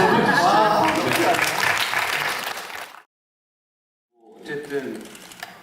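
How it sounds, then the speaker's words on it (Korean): A musical theatre audience applauding during a talk session after a show, a dense burst of clapping mixed with voices that cuts off abruptly, then after a silent gap talking and noise resume. "박수 한번 주시죠."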